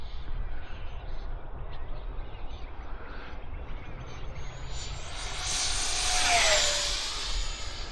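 An H.King L-39 64mm 4S electric ducted-fan RC jet makes a flying pass: a steady distant whine swells into a loud, rushing, pitch-sliding roar that peaks and then eases away.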